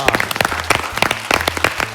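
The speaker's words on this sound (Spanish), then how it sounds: "pido un fuerte y sostenido aplauso" A TV talk-show studio audience gives brief, lively applause for arriving guests, with distinct claps rising over a low steady hum.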